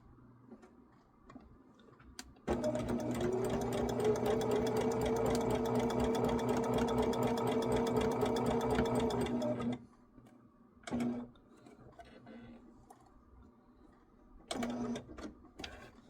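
A sewing machine runs steadily for several seconds while sewing a shamrock table runner, a close, even mechanical whir with ticking, followed by a couple of short bursts of stitching.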